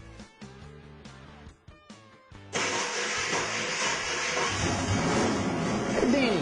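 A carbureted engine fitted with a Barry Grant SixShooter carburetor and set to 14 degrees initial timing cranks in short bursts, then fires and settles into a loud, steady run right away.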